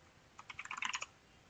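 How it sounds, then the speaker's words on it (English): A quick burst of close, light key clicks as someone types a short command into a terminal on a computer keyboard, quiet and with no talking over it. "simply go to your terminal and maybe type something like sudo snap"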